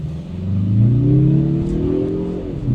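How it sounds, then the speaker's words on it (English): A 2025 Mazda CX-30 Turbo in sport mode launching from a standstill for a 0 to 60 run, its engine note rising steadily and loud inside the cabin, with no talking over it. "we're going to jump out here and get a 0 to 60 real quick, right off the bat"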